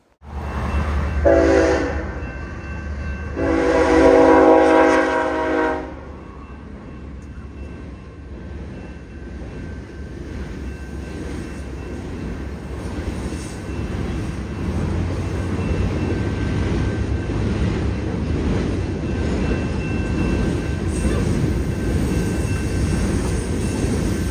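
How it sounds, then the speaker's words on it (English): A freight train carrying flammable and explosive material rumbles past with a steady heavy roar, after two loud horn blasts at the start; continuous rolling noise fills the rest. "This train was carrying a lot of flammable and explosive material."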